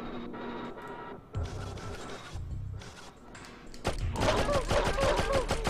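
Bursts of rapid video-game gunfire from Abe's Oddysee crackle in short volleys, growing denser and louder toward the end, with a voice speaking intermittently underneath.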